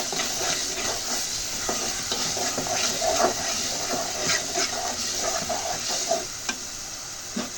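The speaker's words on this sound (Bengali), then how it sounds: "হালকা তেলের উপরে ভেজে নেব। এখন দিয়ে দিব চিকেনটা।" Chicken pieces frying in a little spiced oil in a pan, a continuous loud sizzle with stirring scrapes and clinks throughout.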